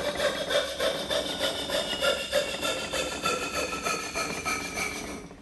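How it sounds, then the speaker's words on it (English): A coping saw cuts wood for a wooden spoon, using the full length of the blade in fast, even back-and-forth strokes that rasp loudly and close up, with no talking. "Now when I'm cutting, you'll notice that I'm using the full length of this blade"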